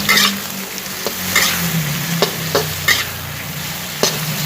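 Pre-boiled offal is stir-fried with garlic in a pan, with a steady loud sizzle and several sharp scrapes and clinks of a spatula stirring, no voices.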